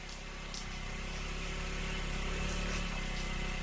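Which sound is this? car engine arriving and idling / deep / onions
car engine arriving and idling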